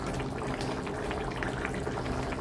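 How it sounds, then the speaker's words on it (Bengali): Tomatoes simmer gently in a pan for a fish curry, with a steady bubbling, gurgling boil close up and no voices. "টমেটোটা একটু হালকা সিদ্ধ হোক"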